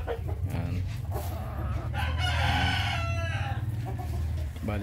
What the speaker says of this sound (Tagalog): atin muna pong pinalabas ang ating mga manok dahil makapaganda para makapag-forage sila yan